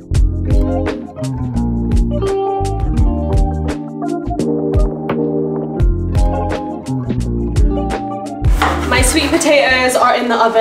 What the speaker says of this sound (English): now I'm just chopping up some peppers and onions